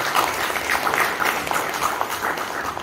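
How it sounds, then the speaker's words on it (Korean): Applause from an audience during an indoor appointment ceremony in a multipurpose hall, steady scattered clapping lasting a few seconds with no voices over it. "예, 박수 좀 부탁드립니다."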